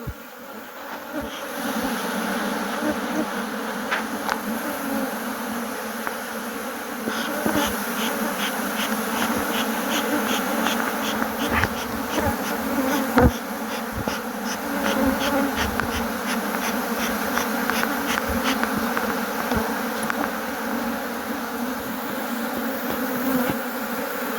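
Honey bees swarm around an opened hive frame where fresh comb is being drawn, a steady loud droning buzz filling the whole stretch with individual bees zipping past close by, no voices.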